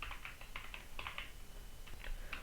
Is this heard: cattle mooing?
no